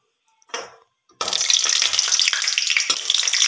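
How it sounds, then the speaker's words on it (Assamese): Cinnamon and spices frying in a pan while being stirred, a faint scrape followed by a loud, steady close sizzle that carries on to the end. "এইটো ধুনীয়াকৈ লৰাই থাকক।"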